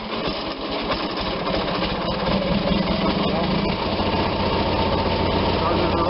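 An RV engine just started with the choke adjusted, settling into a steady rough idle that grows slightly louder, continuous and close, with a voice briefly heard over it.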